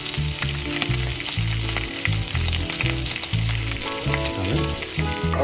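Garlic frying in a pan for shoyu ahi, a loud continuous close sizzle with crackling bursts and occasional stirring.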